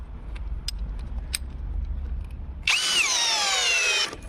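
A cordless 20V impact drill kicks in after a few quiet seconds and runs loud and steady, its whine rising as a 160 mm lag screw bites into wood, then cuts off.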